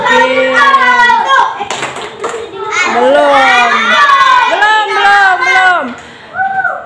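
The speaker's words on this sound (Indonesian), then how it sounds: "coba sebelum memulai pelajaran, tepuk semangat dulu" A class of fifth-grade schoolchildren does a rhythmic spirit clap before a lesson, their claps mixed under loud group chanting and children's voices in a lively classroom.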